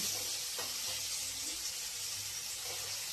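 Meat cooking with onion only, no ginger or garlic, sizzles in a pan as a steady, close broadband hiss that runs unbroken throughout.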